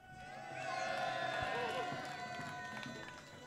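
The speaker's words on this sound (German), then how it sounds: "Hallo Berlin, mach mal ein bisschen Lärm!" A large crowd at the Hanfparade 2023 demonstration in Berlin cheers and makes noise, a broad sustained roar that swells and then eases slightly.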